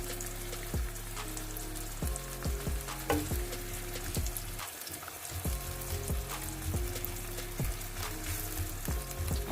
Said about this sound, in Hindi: तो पहले हम जो प्याज है इसको थोड़ा सा लाइट ब्राउन सा करेंगे।